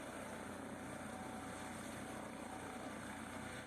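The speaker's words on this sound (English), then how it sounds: "is an Airbus Helicopter H155, formerly known as Eurocopter 155 Dauphin." An Airbus H155 helicopter, formerly the Eurocopter EC155 Dauphin built in 2007, gives a steady, broadband rotor and turbine roar throughout, fairly loud and constant, with no voices over it.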